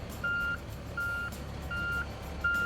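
A hatchery fish truck reverses, sounding four evenly spaced backup beeps over a steady engine rumble, loud and close, while it takes on a load of rainbow trout.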